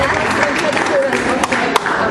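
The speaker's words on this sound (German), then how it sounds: "Sondern einen Applaus!" An audience claps in a dense, steady patter of applause for a young child performing alone for the first time, while a voice talks over the clapping.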